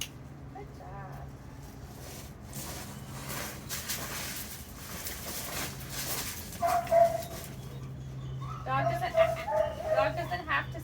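Dog at an indoor obedience training class letting out yips and soft whimpers among other dogs, mostly quiet, with a trainer talking over it throughout.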